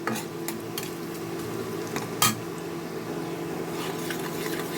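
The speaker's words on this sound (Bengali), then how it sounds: "এখন আমি আদাটাকে চার পাঁচ সেকেন্ডের জন্য এই গরম তেলের মধ্যে একটু ভেজে নেব" Ginger frying for a few seconds in hot oil in a home kitchen, a steady close sizzle with a few utensil scrapes and one sharp clink partway through.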